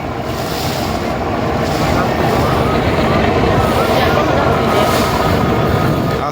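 Passenger launch (river ferry) on the Kuakata to Dhaka route, with a steady loud broadband engine and water rush mixed with wind buffeting the microphone, continuous throughout with no clear talk.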